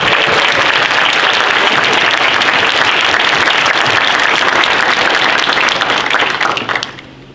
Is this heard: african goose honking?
no